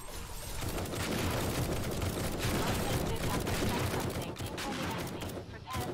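Rapid video game gunfire rattles in dense, continuous bursts like a machine-gun fusillade, loud and close, with a voice talking over it and a brief lull near the end.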